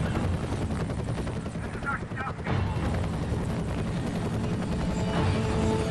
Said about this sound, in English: let you actually come in on a helicopter and fast rope down